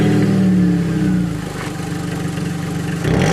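A Chevy Cavalier Z24 with a 5.3 LS V8 swap and a deleted muffler revs hard and close. The raw, loud exhaust note holds steady, dips briefly, then climbs again near the end.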